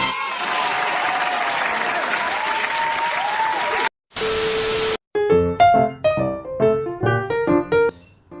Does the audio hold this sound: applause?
yes